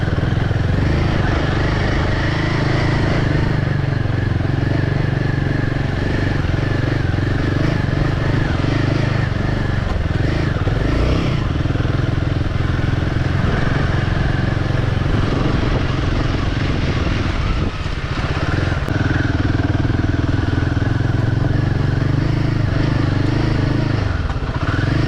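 A Royal Enfield Himalayan 452 motorcycle engine drones steadily and close while riding off-road over a rough, sandy track, with rattling clatter from the terrain throughout and a brief dip near the middle.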